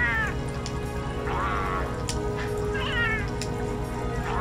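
Cat character voices in Monster Hunter World give several separate meows, some drawn out and whiny, heard one after another over a steady low game background hum.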